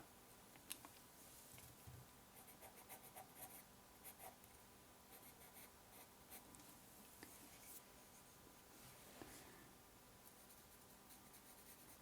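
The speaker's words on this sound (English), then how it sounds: "I am going to add some shading using the 2B pencil" A 2B pencil shading on paper for a charcoal portrait drawing, a faint steady scratchy rasp of graphite strokes with soft rhythmic texture and no talking.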